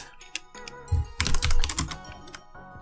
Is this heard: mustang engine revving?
no